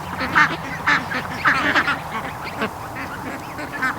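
Ducks quack repeatedly in a loose, overlapping chorus at a farm pond where ducklings are hatching, the calls close and fairly loud over a steady outdoor background.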